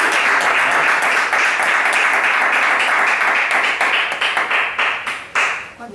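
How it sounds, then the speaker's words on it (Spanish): Lively clapping from an audience at a school project presentation, with individual claps standing out sharply and the applause thinning and tapering off toward the end. "vamos a dar un aplauso,"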